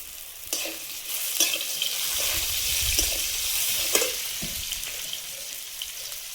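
Panch phoron five-spice and dried red chilies sizzle in hot oil for a Bombay duck and Malabar spinach dish, a steady close frying hiss broken by a few stirring scrapes and pops.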